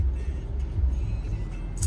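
Low engine and road rumble heard from inside a car driving on errands, a steady muffled drone with small bumps and no talking.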